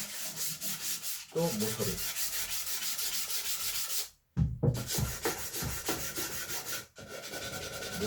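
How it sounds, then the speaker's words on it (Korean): Sandpaper scrubs steadily across the end grain and edges of a solid-wood cutting board, a continuous close rasping broken by two brief pauses, with a short spoken remark partway through. "마구리면도 마찬가지로 사포질을 한번 해주시고요"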